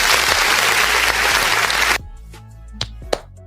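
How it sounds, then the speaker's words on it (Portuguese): A round of applause, dense and loud for two seconds as a studio sound effect, then cutting off abruptly into quiet background with a couple of faint clicks. "Uma salva de palmas aqui pro Financial Times."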